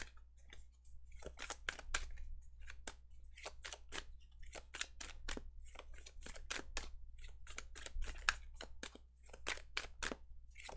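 Tarot cards shuffled close by, a steady run of crisp, rapid riffling snaps and flicks over a low background hum in a quiet room.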